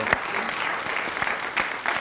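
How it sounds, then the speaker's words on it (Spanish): A TV studio audience bursts into steady applause, a dense even patter of many hands clapping at moderate volume, with a voice faintly heard underneath. "Un aplauso para esa propuesta, chido."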